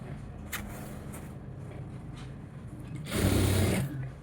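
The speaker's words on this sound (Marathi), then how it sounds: "याला हे स्टिच करून घ्यायचं. असं शिवून घ्यायचं." A sewing machine stitches fabric, with a steady low mechanical whir that swells louder near the end as the stitching speeds up.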